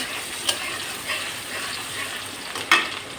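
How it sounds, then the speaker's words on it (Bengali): Onion frying in a pan until golden, a soft, steady sizzle broken by a couple of sharp stirring clinks, close by with no talking. "ভেজে নিই পেঁয়াজটা"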